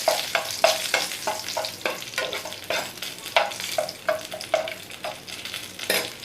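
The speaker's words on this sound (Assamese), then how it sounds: "এই 2টা অকণমান ভাজি লওঁ" Two dried red chillies fry in oil over a medium gas flame, a steady sizzle broken by rhythmic sharp scraping and stirring strokes of a spatula against the pan, close and moderately loud with no talk.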